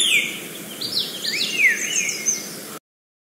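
Recorded sparrow chirps play from a web page, a string of clear rising and falling tweets over a steady faint hiss, then an abrupt cutoff.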